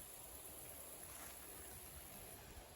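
A homestead creek flows steadily, its continuous broadband rush of water holding an even level throughout with no voices over it.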